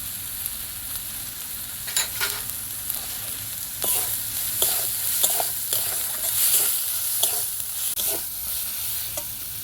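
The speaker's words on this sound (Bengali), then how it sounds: "মশলাটা ভালো করে কষানো হয়ে গেছে" Spice paste of ground coriander and cumin fries in a pan, sizzling softly while a spoon scrapes and stirs in repeated strokes, close and fairly quiet.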